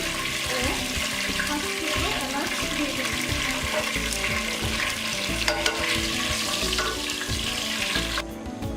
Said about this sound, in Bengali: মশলাগুলোকে আমি হালকা করে ভেজে নিচ্ছি